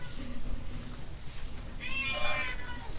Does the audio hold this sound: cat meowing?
yes